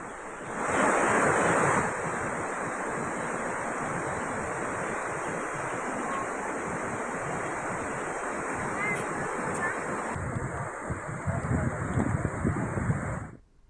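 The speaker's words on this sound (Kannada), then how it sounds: "ಹಾಲ್ನೊರೆಯಂತೆ ಈ ಜಲಪಾತ ಉಕ್ಕಿ ಧುಂಬಿಕ್ತಾ ಇದೆ." A steady, powerful roar of rushing water fills the whole stretch, broad and continuous, from Dhanushkoti Falls swollen by heavy monsoon rain in Maharashtra's Western Ghats, with no talking.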